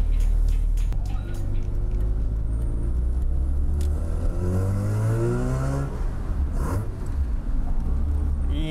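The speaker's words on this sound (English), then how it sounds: "I like the rotary sound." A carbureted rotary-engine car revs on the street, the loud engine note rising and falling in repeated sweeping pulls over a deep rumble, close to the microphone.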